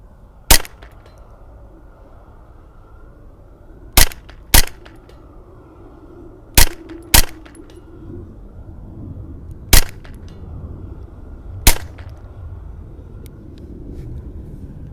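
Seven sharp, loud shots from a Derya Arms TM22 .22lr rifle, spaced unevenly at a shooting range, each a crisp crack standing out over a low steady outdoor rumble.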